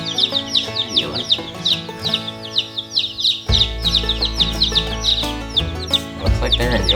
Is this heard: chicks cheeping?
yes